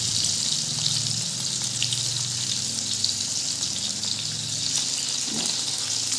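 Pointed gourd (potol) slices fry in hot oil in a pan, a steady close sizzle and crackle that continues throughout with no break.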